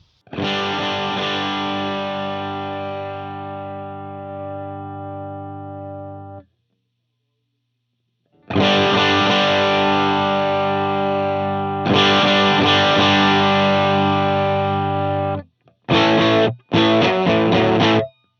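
An electric guitar plays through a Dumble amp model on a Line 6 Helix, with a low cut at 80 Hz and a high cut at 5 kHz. Long ringing chords are separated by a silent pause, then two short, punchy stabs close it out.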